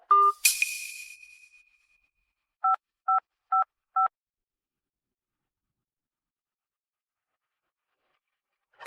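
Four short, evenly spaced telephone keypad tones beep close and clear after a brief chime at the start, then silence follows.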